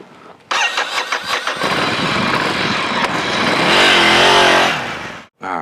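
A 2016 Ducati Scrambler Icon 800cc motorcycle fires up with a sharp start, settles into a loud, close rumbling idle, then revs rising and falling before cutting off abruptly.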